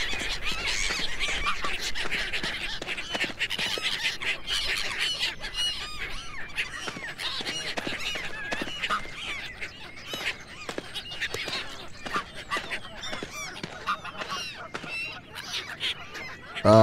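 Geese honk continuously in the video game Forest Ranger Simulator, a dense overlapping flock chorus of harsh calls holding steady throughout, with no speech.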